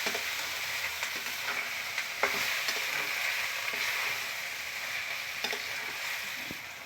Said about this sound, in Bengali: তো আবারও আমি ভালো করে নেড়ে নিচ্ছি।